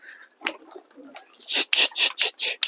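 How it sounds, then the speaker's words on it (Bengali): A domestic pigeon on a rooftop on a rainy day gives a few soft, faint coos. A run of six loud, rhythmic wing flaps close by follows as it takes off. "দেখি এই পায়রাটাকে উড়িয়ে দেখি"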